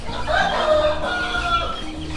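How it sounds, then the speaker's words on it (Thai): Chickens and chicks on a farm at the start of the rainy season, with close, loud clucking and a crowing call drawn out over about two seconds. "ผมมีลูกไก่อยู่ด้านนี้เนาะ"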